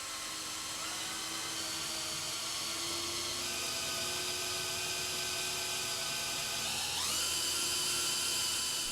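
A small electric drill drives a homemade DIY generator, giving a continuous high whine with steady mechanical hum that holds pitch, then rises sharply in speed near the end; close and alone, no talking.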